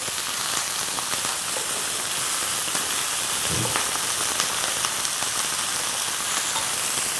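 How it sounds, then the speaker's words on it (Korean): Late-season chili peppers stir-fry in a pan, giving a dense, steady sizzle full of fine crackles and pops that runs unbroken throughout, close and fairly loud, with no talking. "얘가 약간, 불 기운에 토독토독하게끔 해주셔야 돼요."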